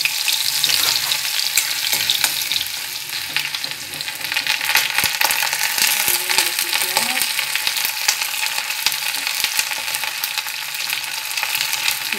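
Garlic added to hot oil with cumin sizzles and fries steadily in a pan, a close, continuous crackle with occasional stirring scrapes throughout.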